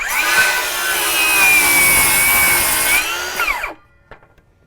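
A DeWalt 20V Max 7-1/4 inch cordless circular saw (DCS570) cuts through wood in one loud, steady whining pass of about three seconds, then the blade stops abruptly and the cut-off piece clatters briefly.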